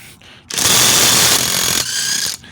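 A Seesii WH710 impact wrench hammers loudly on a rusted lug nut in a rapid buzzing burst of about two seconds, with a brief pause partway through and quieter clicks before and after.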